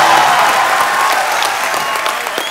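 Loud studio audience applause and cheering on a Hindi comedy talk show as a ghazal singer walks on stage, a dense steady roar of clapping that holds throughout and tapers only slightly toward the end.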